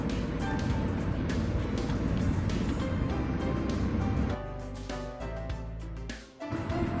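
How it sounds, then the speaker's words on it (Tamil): A kitchen mixer jar grinding frozen mango pulp into ice cream base, a loud continuous churning whir with rattling that thins out and stutters toward the end as the motor slows. "அஞ்சு மணி நேரம் கழிச்சு மறுபடியும் ஒரு மிக்சர் ஜாரில் போட்டு நல்லா கிரைண்ட் பண்ணிக்கோங்க"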